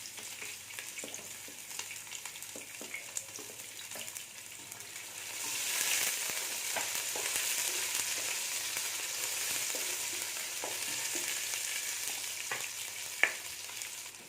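Onions and green chillies frying in a pan give off a soft, steady sizzle with occasional stirring clicks, and the hiss swells louder partway through. No one speaks.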